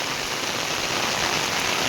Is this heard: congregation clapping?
no